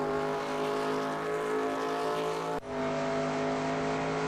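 A race car in the NR2002 racing game drones steadily at high engine revs with a constant harmonic whine, close and unbroken, with a brief gear-shift dip partway through.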